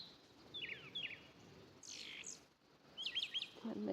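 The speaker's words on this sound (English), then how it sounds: "Hey, that was another bird." A bird calls from a thicket in the evening: short, high chirps in three quick bursts, fairly faint and distant, over soft outdoor background with no voices.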